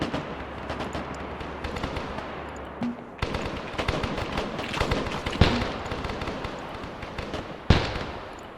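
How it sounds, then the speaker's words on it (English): An artillery fire mission in a Cold War West German war video game: repeated booming impacts and crackling bursts of gunfire, with several sharp, loud blasts standing out over a constant rumble of battle. "So fire support, artillery fire mission."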